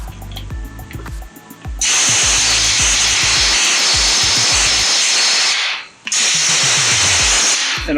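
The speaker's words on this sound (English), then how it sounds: "Just take your blow gun, blow out the crud out of the bowl" A compressed-air blow gun blasts out the plastic carburetor bowl of a lawnmower. A loud, close, steady hiss runs for about four seconds, drops out briefly, then resumes over a low mechanical knocking.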